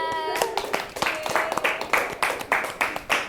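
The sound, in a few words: applause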